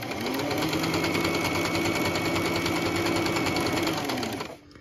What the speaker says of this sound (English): So all you do now is you just kind of guide the fabric gently and push your presser foot.